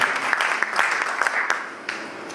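Church congregation applauding as an acclamation offering during a service, a dense steady crackle of many hands with sharper individual claps popping through, fairly close and filling the room.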